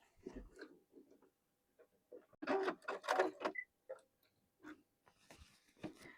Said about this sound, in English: just lay it down on the machine and top stitch it closed